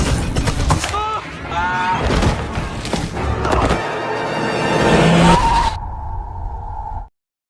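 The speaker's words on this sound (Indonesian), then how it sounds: "tepat saat mobil melintas, dia pun tertabrak" A car in a film scene skids with screeching tires, mixed with engine and other effects. A high squeal swells and holds near the end before the sound cuts off abruptly.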